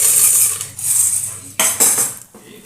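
Half a cup of popcorn kernels is poured into a pan, giving a close, hard rattling patter in a few quick bursts over a bright hiss.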